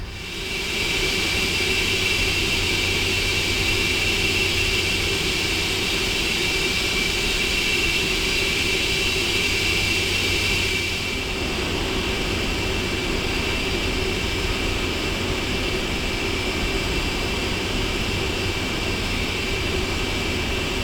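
A steady, loud jet engine roar and whine with a constant high tone comes from aircraft traffic in the Prepar3D flight simulator, heard while a PMDG 747-400 holds short. The roar softens slightly about halfway through, with no talking.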